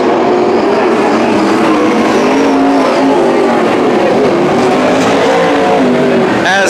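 Dirt modified race cars roar around the Petaluma Speedway 3/8-mile dirt track, a loud, continuous snarl of engines with shifting pitches as cars pass, and an announcer talks over the racing.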